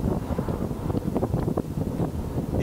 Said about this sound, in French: Là on entend le vent